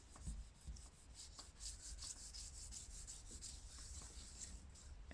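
Paper rubbed by hand over a painted gel printing plate laid on a stencil, a steady close swishing friction with soft rhythmic strokes throughout, no voices.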